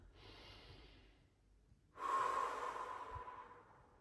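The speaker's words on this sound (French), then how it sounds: "On met maintenant ses mains sur le thorax et on inspire." A person takes a slow, deep breath in during a neck and chest breathing exercise with hands on the thorax, a soft, close airy inhale that swells and holds after a quieter breathy lead-in.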